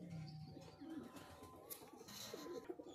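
Pigeons coo softly in a quiet setting, a few low burbling calls repeating over about three seconds, with faint chirps in the background.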